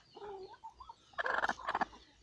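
Burmese crested chickens clucking at an evening feeding, soft calls at first, then a louder burst of several overlapping clucks and squawks up close.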